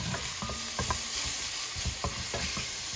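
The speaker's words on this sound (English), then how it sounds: "I just like to add in a little bit of extra virgin olive oil to help get them cooked down." Mushrooms cook in leftover bacon fat with a splash of extra virgin olive oil, a close steady sizzle with a few scraping stirs of the pan.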